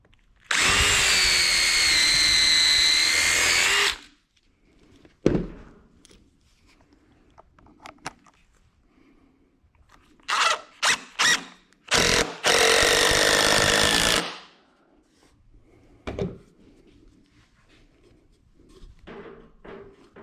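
A power drill drives screws into a wooden shooting table in two loud bursts of whirring, one long and one shorter, separated by quieter handling noises and clicks.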